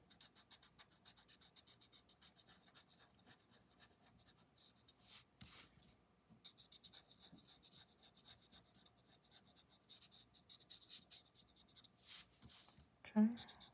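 Soft, continuous rubbing of a blending stump pressed gently into paper to soften a pencil line in a botanical pattern drawing. The sound is faint and close, with a brief louder knock near the end.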